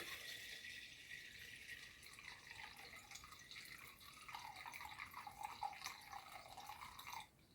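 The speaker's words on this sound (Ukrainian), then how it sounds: "наливаю воду в міхур з льодом." Water pours from a tap into a rubber ice bag already holding ice, a steady close trickling and dripping stream that runs for several seconds and then stops abruptly.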